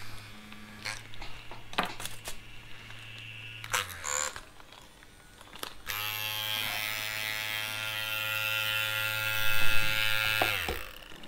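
An Ambition Torped tattoo machine buzzes in short bursts, then runs in a longer steady stretch with a bright electric whine, recorded close with small clicks and handling noises in the gaps.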